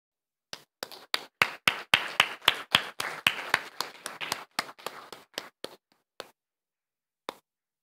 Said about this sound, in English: Ladies and gentlemen, let's give a hearty round of applause for Director Sugiyama.